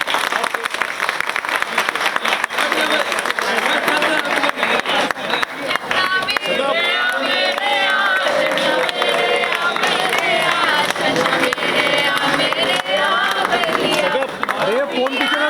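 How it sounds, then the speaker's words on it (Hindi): Cast and crew of a TV serial applaud and cheer while celebrating 100 episodes, a loud sustained burst of clapping with whoops and crowd babble over the whole stretch. "एक बार जोरदार तालियां हमारे शो के लिए"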